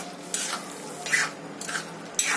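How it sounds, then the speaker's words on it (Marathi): Coriander is stirred into a thick egg masala gravy in a pan. Four separate scraping strokes of a spoon sound at a steady pace, close and clear against a quiet background. "परत एकदा कोथिंबीर मिक्स करून घेऊयात व्यवस्थित."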